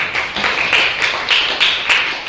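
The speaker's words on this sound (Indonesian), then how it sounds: "Tepuk tangan semuanya" A class of students clapping their hands together in a classroom, a dense, steady patter of many claps running throughout at close range, with no talking.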